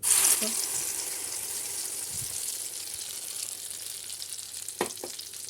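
Jackfruit paste sizzles and frying steadily in a pan while being stirred for halwa, a continuous bright hiss with a couple of brief scraping knocks near the end.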